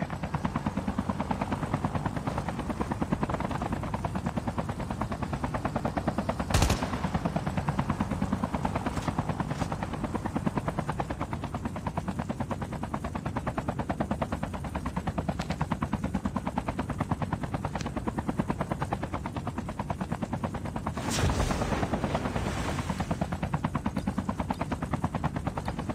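A Call of Duty Mobile aircraft, heard as a continuous loud rotor-like thumping drone throughout, with a couple of sharp impacts cutting through, no voices.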